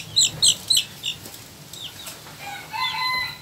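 Chickens in a coop give a quick run of sharp, high clucks at the start, followed by softer scattered clucking and calls from the flock at moderate distance.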